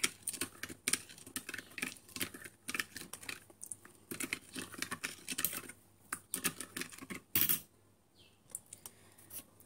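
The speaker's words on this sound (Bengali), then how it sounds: "এখন এটাকে সুন্দরভাবে নেড়ে মিশিয়ে নেব।" Coffee powder, sugar and lukewarm water being stirred briskly in a bowl for restaurant-style cold coffee, a rapid run of close, sharp clicking and scraping taps that continues for several seconds with only brief pauses.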